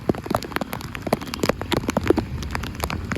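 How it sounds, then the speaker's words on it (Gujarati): Heavy rain pours down during a thunderstorm with strong wind, where traffic has halted by a roadside hotel: a steady, dense patter of drops striking surfaces close by, continuous and fairly loud throughout. "ફૂલ વરસાદ અટાણે પડે જ છે આપણે."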